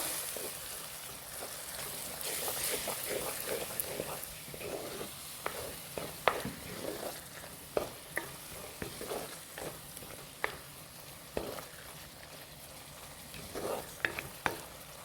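Spices such as turmeric, chili powder and coriander powder stirred in hot oil in a pan for a salmon fish curry, with steady close sizzling and scattered scraping taps from the spoon.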